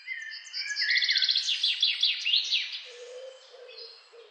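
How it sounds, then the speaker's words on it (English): Birds trill and sing in a dense, overlapping series of rapid chirps and warbling phrases, fairly close and clear, tapering to softer, lower calls near the end with no voices. "It speaks through the trills and the song of the birds."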